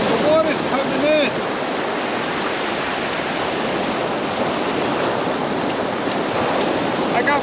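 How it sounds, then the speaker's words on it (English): Ocean waves wash in onto a shore, a continuous near, loud hiss and roar of surf mixed with wind buffeting, alone without talk. "Not far, but the water's coming in."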